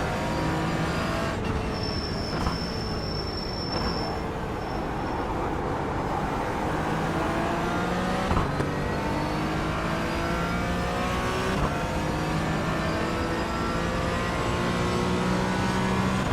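BMW race car engine in the iRacing sim at Daytona during an IMSA Michelin Pilot Challenge race, a loud steady drone with rising and falling gear pitch sweeps and brief shifts, continuous and close throughout.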